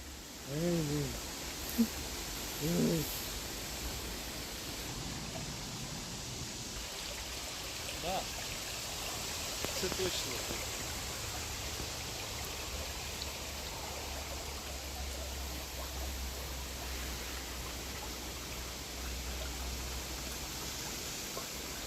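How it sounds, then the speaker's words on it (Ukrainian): Steady wash of running stream water in rural Ireland, moderately close, with a couple of brief voices early on and a low hum underneath. "Дивлюся на воду. Як вона тече."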